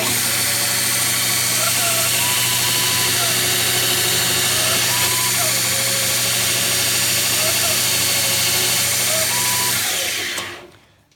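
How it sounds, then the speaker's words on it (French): A Viel S-5-M sharpening grinder motor runs steadily with a constant whine, a few faint warbling tones drifting over it, then cuts off and winds down at the end. "On part le moteur."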